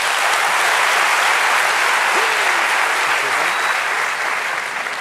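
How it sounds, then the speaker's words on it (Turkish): An audience on a Turkish talent show bursts into loud, dense applause that stays full and even for about five seconds before easing slightly at the end. "Esas şimdi alkışları almak istiyoruz."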